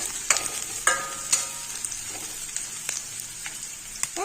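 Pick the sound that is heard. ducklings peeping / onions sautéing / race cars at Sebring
onions sautéing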